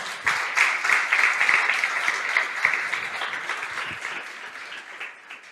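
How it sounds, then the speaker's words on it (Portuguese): A church congregation applauds, a dense wash of many hands clapping steadily at moderate volume, fading slightly toward the end. "você pode aplaudir o Senhor"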